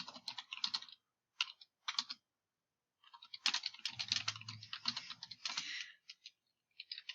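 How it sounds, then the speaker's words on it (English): Typing on a computer keyboard: quick clusters of close, light key clicks in irregular bursts separated by short silences, with no talking. "I'm typing too much on this one"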